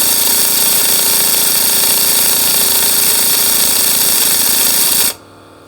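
A Capri CP33200 flex head impact wrench with a 19 millimeter socket runs in one loud, continuous mechanical whir for about five seconds, then cuts off abruptly.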